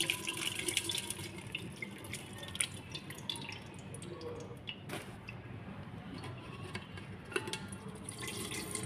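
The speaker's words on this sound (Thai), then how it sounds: "แล้วเราก็จะกรองเอาแต่น้ำปูนะคะแต่ตะแกรง" Pounded field crab liquid strains through a sieve into a vessel, producing a faint continuous trickle with scattered small drips and clinks close by in a quiet kitchen.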